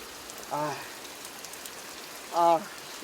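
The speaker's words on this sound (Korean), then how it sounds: "제주 공항에는 예고에 없던 빗줄기가" A sudden rain shower at Jeju airport makes a soft, even hiss, and two short voices break in over it.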